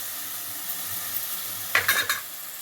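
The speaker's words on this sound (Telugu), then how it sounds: "కరివేపాకు ఆయిల్లో ఫ్రై చేసుకోవాలి" Curry leaves frying in oil for a cauliflower egg curry, giving a soft steady sizzle that flares into a few brief louder crackles and spoon scrapes near the end.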